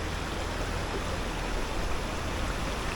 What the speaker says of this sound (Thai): บรรยากาศดีมาก มีเสียงน้ำตกตลอดคืนเลย